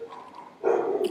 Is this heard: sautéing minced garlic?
no